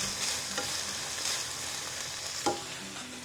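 Bolognese sauce sizzles softly in a pan while a spoon stirs it, a quiet frying hiss with a few light scrapes and one sharper knock near the end.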